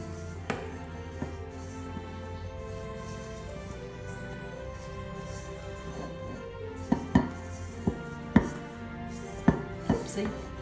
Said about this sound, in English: now we're going to add the sifted dry ingredients into the wet ingredients. We're just mixing that until it all combines together.